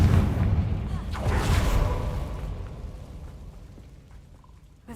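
A Confringo blast spell explodes in Hogwarts Legacy, giving a loud, close boom with a rushing whoosh that slowly fades into a rumbling tail.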